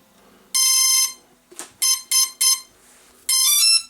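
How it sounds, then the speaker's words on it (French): Electronic ESC calibration beeps from a CX-20 drone motor setup sound in a sequence: a long tone, a short chirp, three quick beeps, then another long tone, loud and close in a quiet room. "On branche, on attend les deux bips, on relâche."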